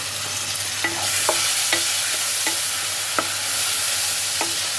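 Masala with a little water fries in a pan under a steady close sizzle, while a utensil scrapes and taps against the pan about eight times in an irregular stirring rhythm.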